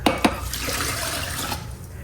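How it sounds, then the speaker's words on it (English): Three cups of water poured into an Instant Pot over a rice mixture, a steady close splashing and trickling stream lasting about two seconds, with a couple of brief knocks at the start. "And now I'm going to put my 3 cups of water in here."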